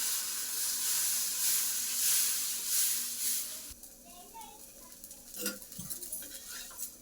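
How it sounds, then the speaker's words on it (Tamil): Dosa batter hits a hot pan and sizzles, a steady bright hiss that cuts off abruptly, followed by quieter scraping and light clinks of a utensil. "தோசை ஊற்றிக்கலாம்"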